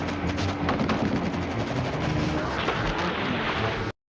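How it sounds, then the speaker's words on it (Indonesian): A war-film gunfight of one man against a company of Vietnamese soldiers, dense continuous rattling gunfire with overlapping shots, loud and close, cutting off abruptly at the end. "terjadilah aksi baku tembak satu orang melawan satu kompi pasukan tentara Vietnam"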